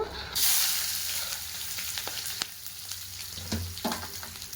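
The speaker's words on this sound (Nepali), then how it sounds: "अब चाहिँ यसमा म प्याज हाल्दै छु" Onions hit hot oil already seasoned with cumin and a dried red chili, bursting into a loud close sizzle that settles into steady frying with a few stirring clinks and scrapes.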